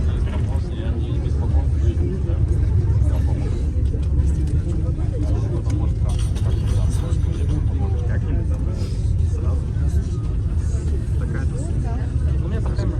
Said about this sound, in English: We're going on bus 80 and it looks completely packed.